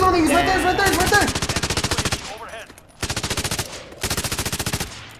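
Rapid automatic gunfire from the Call of Duty: Modern Warfare Warzone battle royale game, loud and close, in long sustained bursts broken by short pauses, with a brief burst of other game sounds at the start.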